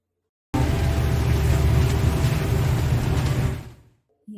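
A train, played as an answer in a children's vehicle-sound guessing game: a loud, steady low rumble that starts abruptly, holds for about three seconds and then fades out.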